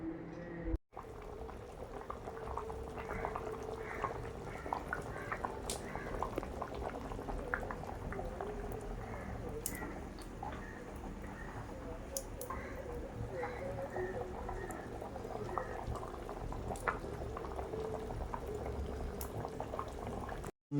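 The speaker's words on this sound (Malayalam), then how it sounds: "ബീഫ് കറി നല്ല എല്ലാ ചേരുവ ചേരുവകളൊക്കെ ചേർത്തു കറി നല്ല രീതിയിൽ തിളച്ചുകൊണ്ടിരിക്കുന്നു" A thick beef curry bubbles and blips steadily in a pot, close and continuous for about twenty seconds, with soft plopping bursts throughout.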